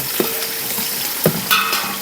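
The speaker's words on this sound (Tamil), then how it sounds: "என்ன வெங்காயத்தை போட்டு வதக்கிடுவோம்" Onions sautéing in a pan with curry leaves for a dalcha, giving a steady close sizzle broken by a few sharp utensil clinks and scrapes as they are stirred, with no talking.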